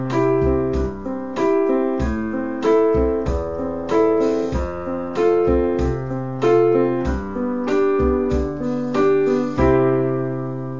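A piano plays a bouncy country rhythm over a chord progression, with a steady pulse of bright repeated chords above a root-and-fifth bass in the left hand, close and clear, with no talking.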